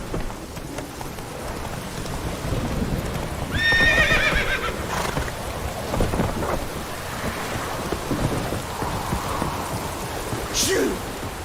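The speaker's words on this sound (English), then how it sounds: "Run, Roach" A horse gallops in The Witcher 3 video game: rapid clip-clop hoofbeats run steadily through rain and rolling thunder, with a brief whinny partway through and a short voice line.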